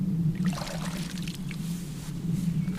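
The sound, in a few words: watering a giant pumpkin plant with a watering can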